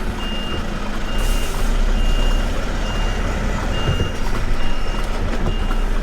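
A delivery truck's engine labours at a loud, steady drone as it strains for power in a tight spot, with a high reversing beeper sounding repeatedly and evenly on top.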